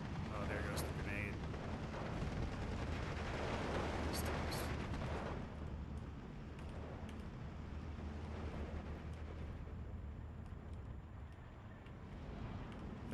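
In Steel Division 2, a Second World War strategy game set at the Battle of Argenta Gap, artillery pieces including 81 mm guns fire and explode in a dense, continuous rumble, with sharp booming bursts early on, then the barrage settles into a steady roar.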